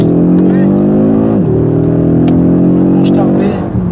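An Audi RS3 with no air filter revs loudly and steadily up close, its engine note sweeping down and then climbing again over a strong, continuous drone.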